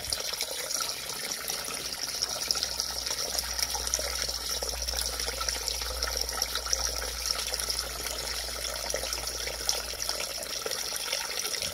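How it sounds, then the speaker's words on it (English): Distilled water pours steadily into a container for an etching solution, a continuous close-up splashing fill that holds at an even level throughout with no talk. "Okay, another inch to go."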